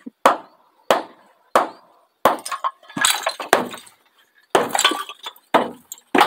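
A homemade pig trough made from a tire is struck apart in a series of sharp, loud cracking and smashing blows with brittle clinking debris, spaced irregularly with silent gaps between hits.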